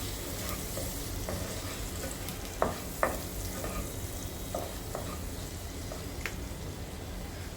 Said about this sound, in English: we added some tomatoes. So let's fry them properly